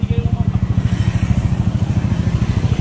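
A Yamaha Mio Sporty motorcycle engine runs at a steady, close, loud putter with an even rapid pulse throughout, and faint voices sit underneath it.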